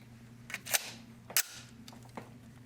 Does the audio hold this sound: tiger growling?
no